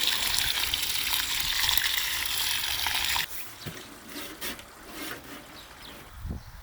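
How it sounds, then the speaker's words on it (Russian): Water gushes steadily as it drains from a container of soaking kutum fish for a few seconds, then cuts out, leaving faint drips and small splashes. "Так, спустим воду."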